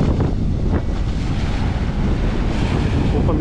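A strong wind of about 35 knots roars steadily across a sailboat's anchorage in shallow water off an Antigua beach, a loud, unbroken rush with heavy buffeting on the microphone throughout.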